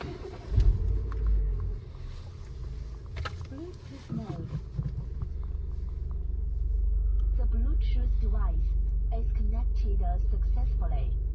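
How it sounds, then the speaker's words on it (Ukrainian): A car engine is cranked and starts, settling into a steady low idle rumble that grows and holds, with someone speaking over it. "Пробуємо завести автівку."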